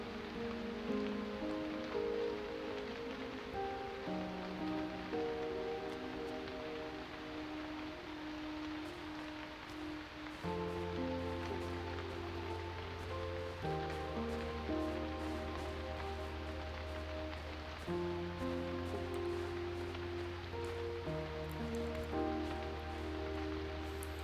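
Steady rain falls in the pixel-art adventure game Eastward, a constant soft hiss that runs under melancholic game music throughout, with no talking.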